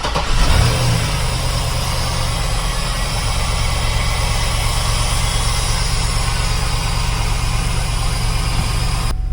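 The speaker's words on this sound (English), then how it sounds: "Let's go ahead and fire it up and let it warm up while we walk around." A 2005 Cadillac Escalade engine cranks and catches, then settles into a steady, smooth idle with a deep rumble, loud and close, no voices.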